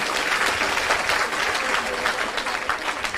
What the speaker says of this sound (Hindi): इस लड़के ने जो किया अच्छा किया, तो ताली बजाइए फिर इनके लिए